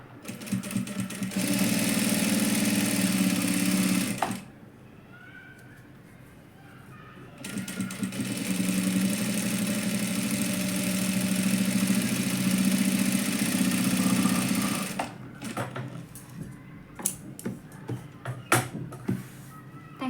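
Sewing machine running in two long bursts while stitching a lined sleeve, the steady motor whir stopping and starting between passes, with brief quieter handling sounds and a few clicks at the end.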